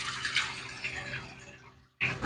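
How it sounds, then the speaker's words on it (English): A race truck's intercooler water pump pulls water with a soft, hissing, trickling flow. It stays faint and steady, cuts out briefly, then a louder burst of running water follows. "Oh yeah, she's pulling water. I don't know if you guys can hear it. You can hear the pump."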